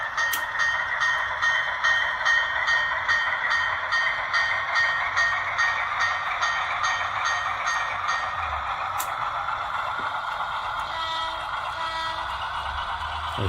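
A model railroad New Haven PA locomotive departs a Portland, Maine station scene, a steady electric motor whir with a rapid regular clicking rhythm and a high tone that gradually fades as it moves off.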